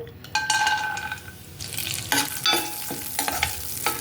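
Pistachios roasting in a pan over low heat hiss with a steady fry, with a spatula scraping and tapping against the metal as they are stirred, close up and without talk.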